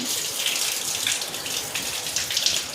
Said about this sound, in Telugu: ఫస్ట్ అయితే ముఖం అంటే ఫేస్ వాష్ పెట్టకుండా ఏమైనా క్రీమ్స్ ఏం పెట్టకుండా కడుక్కోవాలి